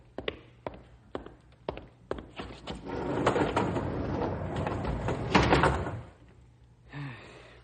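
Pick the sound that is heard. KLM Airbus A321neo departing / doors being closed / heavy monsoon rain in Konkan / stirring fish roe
doors being closed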